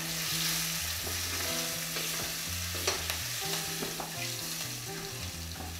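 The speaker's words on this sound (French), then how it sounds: "Nous laissons suer un peu l'oignon et l'échalote" Chopped onion and shallot sweat gently in a pan, producing a soft, continuous frying sizzle with occasional light stirring clicks, low and even throughout.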